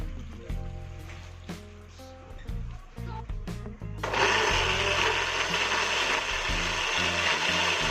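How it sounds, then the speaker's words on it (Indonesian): A blender grinds chili peppers for Acehnese beef rendang: first some clinks and knocks as it is loaded, then the motor starts and holds a loud, steady roar to the end. "Kemudian kita blender cabenya."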